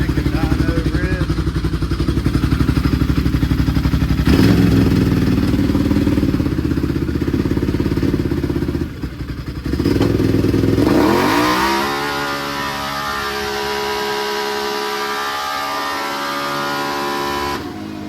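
A modified 850 motorcycle engine runs on a dyno: a loud, close, continuous roar that holds steady, then climbs in a rising rev sweep toward the end.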